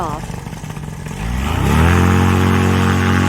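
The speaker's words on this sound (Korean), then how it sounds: "패러글라이더가 바로 이륙합니다. 프로펠러, 엔진의 힘이 엄청나네요." A paramotor's engine and propeller at a paraglider takeoff swell from a rough mid-pitched run into a loud, steady, close roar that holds to the end.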